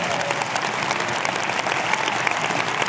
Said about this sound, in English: Give the Lord a hand clap for that.